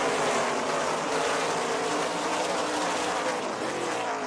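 NASCAR trucks thunder off at the green flag at Nashville Superspeedway, a dense pack of engines roaring together in a loud, sustained wall of sound that eases slightly toward the end.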